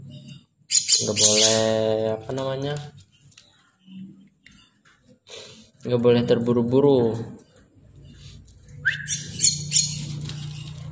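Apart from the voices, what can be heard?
young jalak kebo (myna) chick squawking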